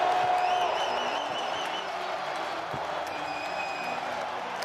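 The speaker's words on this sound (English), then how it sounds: "And this crowd fired up inside the dome in St." Crowd cheering and applauding inside a domed stadium in St. Louis before an XFL football game, a steady, dense roar that fills the space with a few whistles rising above it throughout.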